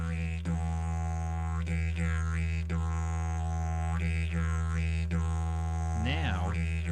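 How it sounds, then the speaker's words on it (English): Didgeridoo drone played in a steady rhythm, a deep continuous buzz with regular vowel-like pulses shifting its tone every second or so, close and loud, with no talk. "First of all, play didgeridoo a few times to get the rhythm"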